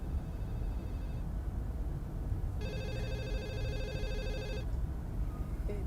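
Electronic telephone ringer trilling in a repeated pulsed burst for an incoming call, clear and moderately near over a steady noisy room background, with no talk.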